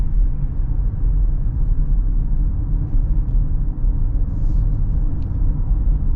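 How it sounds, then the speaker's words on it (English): A 2025 Toyota Highlander's turbo four-cylinder engine drones as the SUV drives, a steady low rumble mixed with road noise that holds even and fairly loud, with no talking. "This new turbo 4-cylinder, I don't know if I like it as much as the old V6, but it does have good low end grunt."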